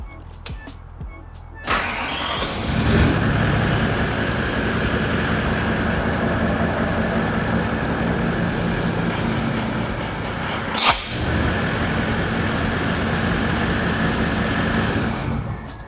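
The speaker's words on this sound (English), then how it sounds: "As you can see, it went to stall and there was no leaking noises coming from anywhere near the airbox" A Toyota 70 Series Landcruiser engine cranks and catches, then idles with a loud, steady rumble during a snorkel seal test, broken by a brief sharp knock midway before running on.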